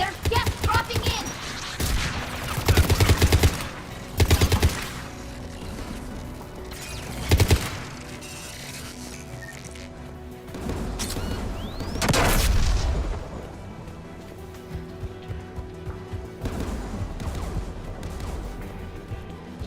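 Anti-aircraft guns firing in a combat video game: heavy booming volleys and crashing blasts come in several loud bursts over a constant roar of battle, with quieter stretches of scattered shots in between.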